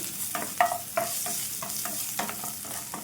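Sliced onions frying in a pan with a little salt, stirred in repeated scraping strokes over a steady close sizzle, no voices.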